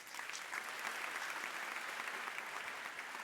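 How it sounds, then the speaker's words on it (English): Conference audience applauding a keynote speaker at a computational social science event, a dense, even wash of many hands clapping, steady and moderately distant for the whole stretch. "Let's give the speaker another round of applause."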